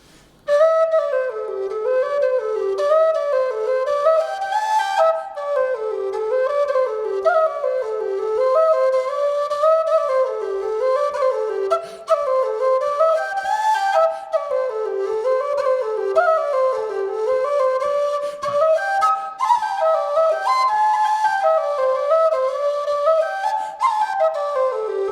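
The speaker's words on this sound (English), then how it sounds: "So this is kind of what it sounds like." Busker tin whistle played in a flowing, ornamented melody with quick runs and trills, close and steady throughout, bright and clear with no voices.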